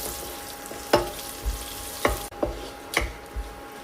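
Cashews and raisins fry in ghee with spices on a medium flame, giving a steady soft sizzle broken by several sharp clinks and scrapes of a stirring spoon.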